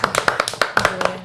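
Studio audience applause on a talk show, a short burst of close, loud hand claps in an uneven rhythm lasting just over a second.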